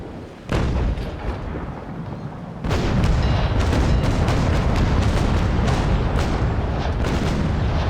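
Sailing-ship cannons boom in the naval combat game Naval Action aboard the frigate Surprise, one heavy blast followed by a sustained, loud rolling barrage of overlapping broadside shots with no voices.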